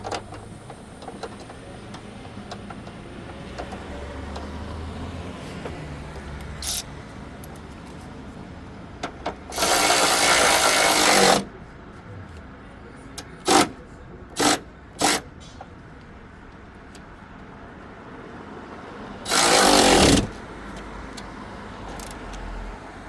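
A power tool fastens an engine hood strut bracket on a Nissan R51 Pathfinder, Xterra or Frontier, running in two loud buzzing bursts of about two seconds each, with a few short zips between them, over a quiet workshop background.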